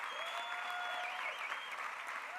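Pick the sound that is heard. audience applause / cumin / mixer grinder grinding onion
audience applause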